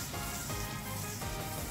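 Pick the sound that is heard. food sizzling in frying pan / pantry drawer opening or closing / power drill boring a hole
food sizzling in frying pan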